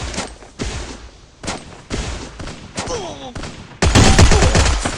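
Gunfire rings out in a shooter video game during a headshot exchange, with sharp repeated shots in quick bursts and a heavier barrage near the end.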